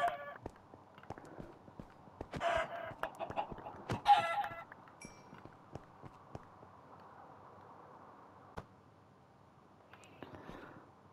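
Minecraft chickens clucking in bursts throughout, close and fairly clear, with intermittent clip-clop of a horse and a soft whispering voice beneath, the busiest clucking early on then trailing into sparser calls.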